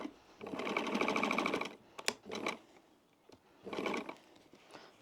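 A 70-year-old Pfaff sewing machine stitching a wallet seam, close and loud, running in two steady whirring bursts separated by a pause with a few sharp mechanical clicks.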